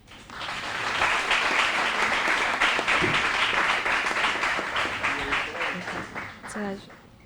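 A crowd at a school quiz competition applauds to welcome a police divisional inspector, the clapping swelling quickly and holding steady before thinning out, with a few voices emerging as it fades.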